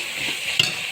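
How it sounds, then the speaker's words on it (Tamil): Vegetables sauté with salt in a pan for veg pulao, making a bright continuous sizzle with a brief scrape of stirring partway through. "கொஞ்சம் உப்பு போட்டு நல்லா வதக்கிக்கோங்க."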